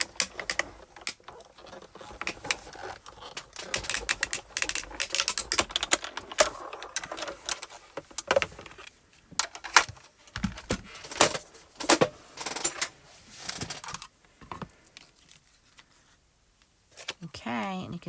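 A Spellbinders die-cutting machine is cranked with a cutting plate, paper and die running through, making a steady run of quick clicks and rattles for about fifteen seconds before tapering off.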